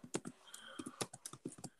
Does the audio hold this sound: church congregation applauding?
no